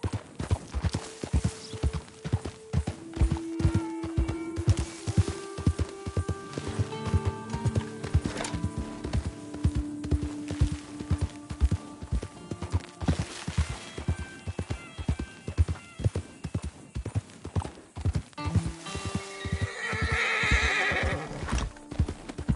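A horse in the Red Dead Redemption 2 video game gallops with rapid, rhythmic hoofbeats that continue throughout, and loud whinnies rise over the running.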